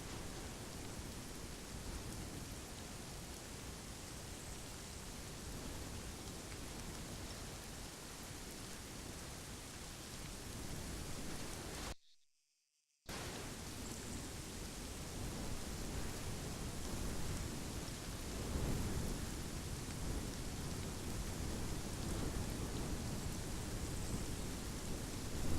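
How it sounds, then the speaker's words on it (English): Steady, dense rain falling in the Arma 3 military game, a continuous hiss filling the whole stretch, broken by one brief second of silence midway, with no voices. "I don't know who made it rain, but let me change it."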